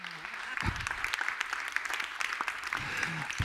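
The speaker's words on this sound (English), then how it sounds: "Let's give a warm round of applause, everybody, to Dr. Patrick Moriarty." Applause from an audience at a heads-of-state event on water and sanitation, steady and moderately distant, with some speech overlapping near the end.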